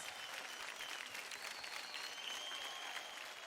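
A studio audience at a televised dance competition breaks into sustained applause, a dense, even patter of many hands clapping for a few seconds.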